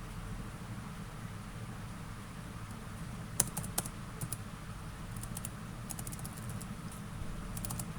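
Computer keyboard typing while searching a fund name in an investing app, heard as a faint sparse patter of key clicks with one brief, slightly louder burst of taps over steady low room noise.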